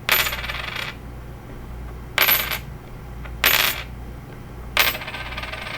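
An 80% silver 1961 quarter dropped onto a hard surface four separate times, each drop giving a bright, sustained metallic ring that fades slowly, with short quiet gaps between drops and no talking.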